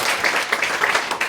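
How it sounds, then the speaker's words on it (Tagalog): A church congregation claps for God, a dense, lively burst of applause from many hands filling a hall, steady and moderately loud. "isang malakas na palakpak sa ating Diyos na buhay"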